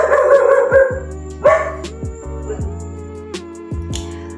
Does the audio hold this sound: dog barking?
yes